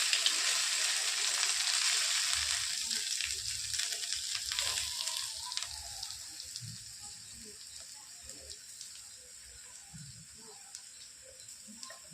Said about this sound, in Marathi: असं परतून घेणार आहोत एक पाच मिनिट